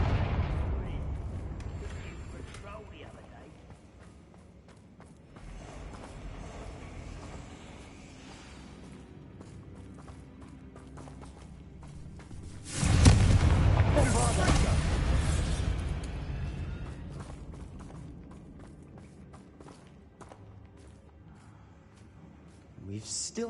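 Confringo blasting spells firing in the Hogwarts Legacy video game, with one loud booming burst near the middle that rumbles and fades, set against ongoing game ambience with low rumbling before and after.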